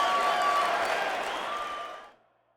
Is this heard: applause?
yes